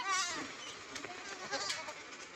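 Goats on a farm, including a pregnant six-month-old doe, bleat several times in quick, wavering calls, fairly close, with faint rustling between the cries.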